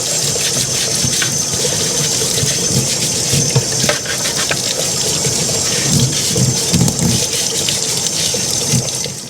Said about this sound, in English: I'm gonna take it over to the laundry tub and scrub her down.